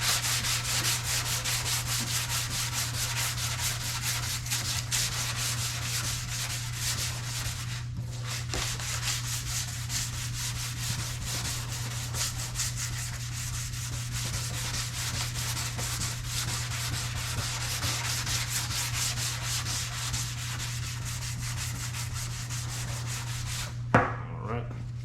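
Steady, continuous rubbing of a thin sanding block over primer on a 7th-generation Honda Civic body panel, worked in a crisscross pattern; close and even for the whole stretch with a low steady hum underneath and no talking.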